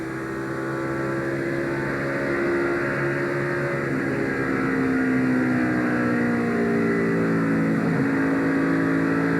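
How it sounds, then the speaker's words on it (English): NASCAR stock car engines on throttle at Las Vegas in a 2002 race, a loud sustained roar with several engine notes sliding up and down as cars pass, steady throughout with no talking. "Bill Elliott eases back into the throttle in front of a packed house here in Las Vegas"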